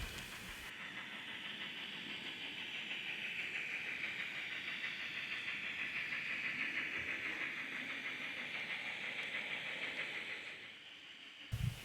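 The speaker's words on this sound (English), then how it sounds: "SP passenger train is now running through the Shin area" An N scale model Southern Pacific passenger train runs steadily across a layout, giving a continuous hiss and faint rail rumble that holds level for most of the stretch before cutting off near the end.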